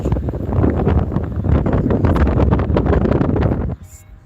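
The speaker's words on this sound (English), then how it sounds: "It's too windy in there." Strong wind buffets the microphone outdoors at Granddad Bluff in La Crosse, Wisconsin, a loud continuous rumble that stops abruptly near the end, leaving quiet.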